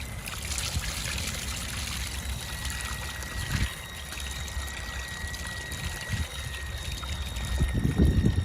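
Water rushes and trickles steadily out of a hose connected to a water pump, a continuous flowing hiss that grows slightly louder and splashier toward the end.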